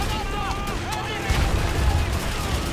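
Gunfire from the video game Call of Duty 2, a steady wash of rapid shots and explosions in a WWII battle, with a heavier burst in the second half, mixed with faint talk.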